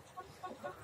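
Backyard hens cluck softly at a short distance, giving three brief, faint calls over a quiet background.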